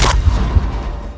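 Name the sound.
sniper rifle shot in a video game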